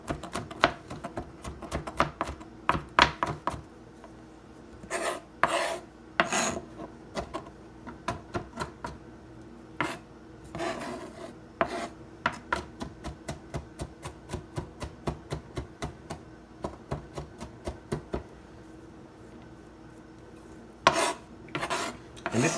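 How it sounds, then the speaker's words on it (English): Knife on a cutting board chopping and mincing chunks of garlic, rapid irregular bursts of sharp taps with short pauses between runs, close and clear with no talk. "Just want to pretty much continue chopping it until it breaks up into little small pieces that you can use"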